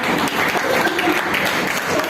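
An audience at an award ceremony and poetry book launch claps steadily, a dense, continuous burst of applause from many hands filling the hall with no break.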